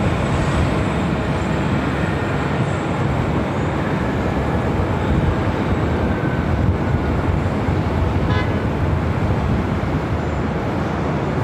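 Jet airliner taxiing at Los Angeles airport, a steady loud broadband engine rumble and roar that holds evenly throughout with no clear rise or fall, heard from a distance outdoors.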